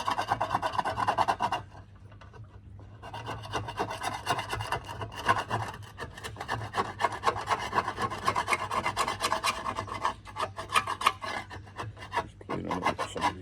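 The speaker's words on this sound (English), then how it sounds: "all I'm doing is just rubbing the screwdriver up and down on the back of this" A screwdriver rasps up and down against the back of an Allett Stirling lawnmower bladed cartridge, scraping off caked debris in steady, close scratching strokes that pause briefly near the start and then run on continuously.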